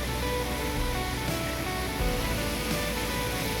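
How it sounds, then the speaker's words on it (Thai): Tad Khu waterfall near Pakxong, Champasak, Laos, gives a constant broadband rush of falling water, steady and moderately loud throughout with no voices. "ทางข้างก็มีน้ำตกหน่อยเนาะ"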